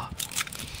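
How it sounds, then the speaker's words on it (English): Crunching sound effect in the video game Content Warning, a short burst of broad crackly crunches lasting under a second, fairly loud and without talk. "Crunching!"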